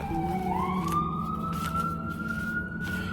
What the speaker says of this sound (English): That siren.